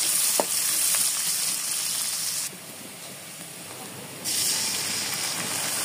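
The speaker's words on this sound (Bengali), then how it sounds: "তেজপাতা ও জিরাটাকে হালকাভাবে ভেজে নিয়ে এর মধ্যে পেঁয়াজ ও মরিচ কুচিটা দিয়ে এরপর খুব ভালো মতো একসাথে ভেজে নিতে হবে।" Bay leaf, cumin, chopped onion and chili frying in hot oil, a steady close sizzle that drops quieter for a couple of seconds before rising again, with faint stirring scrapes.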